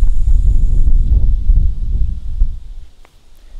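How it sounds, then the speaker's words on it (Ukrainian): Outdoor wind buffeting a microphone, loud low rumbling gusts that ease off near the end. "Вітер дує."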